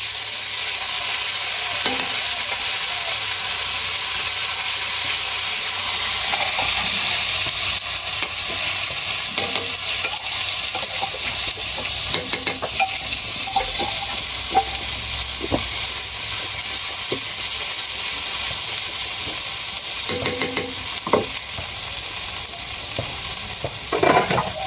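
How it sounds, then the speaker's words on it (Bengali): Spice masala with cumin is stir-fried alongside a fried fish head: a steady, close sizzle and hiss of hot oil, broken by repeated scraping and clacking strokes of a stirring spoon against the pan. "এখন মশলাটা কষিয়ে দিয়ে"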